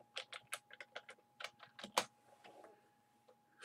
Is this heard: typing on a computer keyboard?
yes